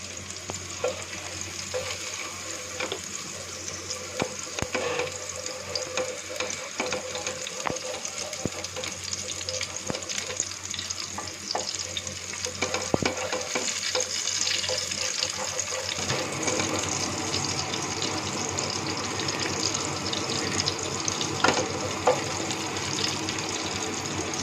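Garlic sautés in hot oil as the base gravy for tikka masala, giving a continuous close sizzle and crackle with occasional stirring scrapes and clinks. The frying grows somewhat denser partway through.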